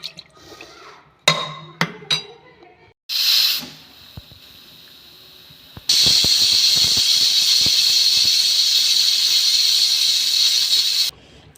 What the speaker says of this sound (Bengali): আমি প্রেসার কুকারে দুটো সিটি দিয়ে নামিয়ে দিচ্ছিলাম।